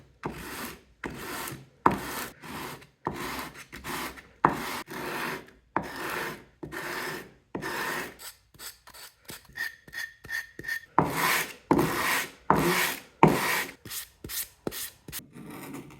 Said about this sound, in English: Then just some quick sanding to break the edges.